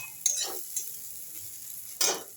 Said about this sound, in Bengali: ভালো করে আরও অনেকক্ষণ ধরে একটু ভেজে নিতে লাগবে।